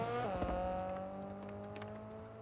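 A car engine in a video game whines and slowly fades as the vehicle pulls away, a steady mechanical drone with a brief pitch drop early on.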